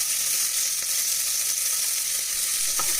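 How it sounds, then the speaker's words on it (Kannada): Onions and green chillies fry in a pan for mutton biryani, giving an even, steady sizzling hiss close to the ear with a few faint ticks of stirring and no talking. "ಅದನ್ನು ಕೂಡ ಗೋಲ್ಡನ್ ಬ್ರೌನ್ ಆಗೋವರೆಗೂ ಫ್ರೈ ಮಾಡಬೇಕು"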